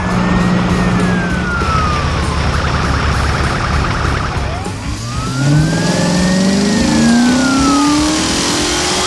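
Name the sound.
heavy construction vehicles arriving, engines revving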